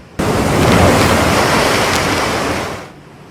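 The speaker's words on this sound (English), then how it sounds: "is it me or is the waves getting bigger?" Big ocean waves crash loudly onto a beach in a sustained roaring surge of surf that swells and then fades out near the end.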